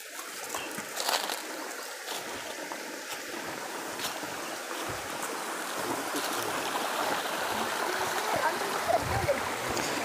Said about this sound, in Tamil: சின்ன ஒரு ஆறு